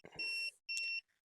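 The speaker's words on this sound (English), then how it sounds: "So once we get the beep again," A digital aura scanner machine emits two clear, close electronic beeps of steady tone in quick succession, then a brief third chirp, with no voice over them.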